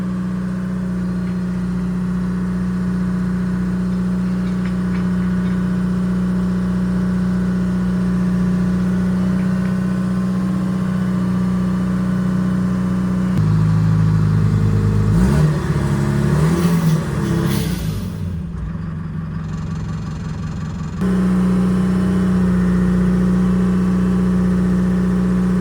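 A crane's engine idles loudly and steadily close by, then revs up through its air throttle in a rough surge before dropping back to a constant idle, with no voices.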